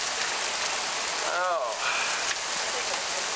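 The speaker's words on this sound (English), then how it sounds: "And the hail is getting a bit bigger." Hail pelting down during a storm in Bristol, Tennessee, a steady broadband patter from start to finish, with a brief voice exclaiming in the middle.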